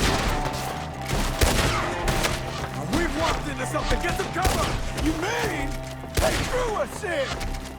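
A dense, sustained firefight in Red Dead Redemption 2 fills the scene with rapid, overlapping gunshots and booming reports, while shouting voices and frantic cries keep breaking through the constant barrage.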